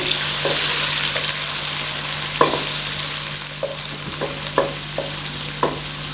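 Steady sizzling of onions frying in hot oil until light pink, with occasional clinks and scrapes of a stirring spoon, no talking.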